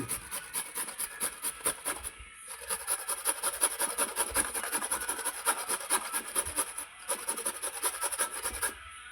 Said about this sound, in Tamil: தேங்காவை சுரண்டி எடுத்துக்கிறேன்